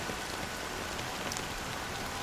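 Rain in the video game Honkai Star Rail falls as a steady, dense hiss of drops, loud and even from start to finish, with no voices over it.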